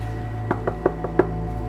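Five sharp knocks on a door in an irregular rhythm, close and distinct over a faint steady background hum, with no voices.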